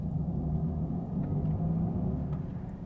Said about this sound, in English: is one of the best sounds in any electric car I have driven.